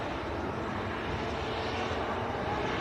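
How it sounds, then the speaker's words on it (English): A Bombardier Global Express business jet touching down at Manchester Airport gives a sustained, even roar of jet engines, loud and broad, with no talk over it. "Got the high-end BizJet just touching down."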